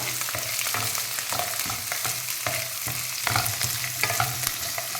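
Onions and curry leaves fry in a pan with small chopped green chilies, a steady close sizzle with light stirring scrapes running throughout, no voices.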